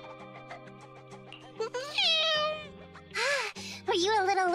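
In the Zenless Zone Zero video game, a character's voice imitates a cat with several drawn-out, rising meows over a bright, plinking musical backing, each meow loud and close.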